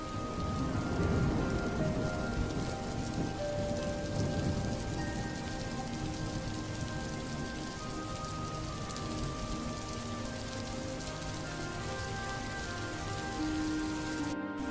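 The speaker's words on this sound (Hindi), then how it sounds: "अंधेरी रात में कड़कती बिजली के साथ जोरदार बारिश हो गई।" Heavy rain falling at night, a dense, steady hiss of drops pattering on surfaces throughout, with no clear thunder standing out.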